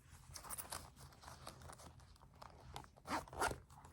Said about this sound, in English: Then it has a zipper pocket here, which I have some change in there.